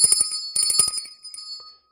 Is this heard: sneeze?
no